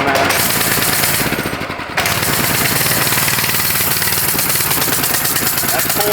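Small minibike engine running flat out at full throttle, a loud, dense, continuous rapid-fire buzz with a brief dip partway through before it surges back to steady roar.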